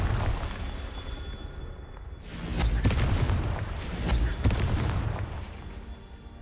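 A Confringo fire spell bursts in Hogwarts Legacy combat, a loud booming explosion with crackling debris that swells, then a second heavy blast follows before fading into rumble.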